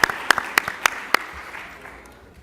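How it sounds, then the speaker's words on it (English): A business competition crowd responds with a handful of sharp, separate claps near the start, spaced unevenly, then the clapping thins and fades into quiet room tone. "Let's give Miller a round of applause."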